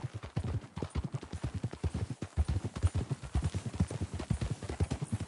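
A horse in the video game Red Dead Redemption 2 clip-clops along at a steady, rhythmic walk, its hooves close and clear, with no other sounds.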